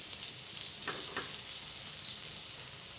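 Okra frying in separated oil in a pan, a steady hissing sizzle close up with a couple of quick stirring scrapes near the start.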